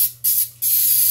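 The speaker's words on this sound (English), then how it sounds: "So just spray your pan." Coconut cooking spray hissing from an aerosol can onto a pan in two short bursts, the second longer and steady, close and alone with no talk.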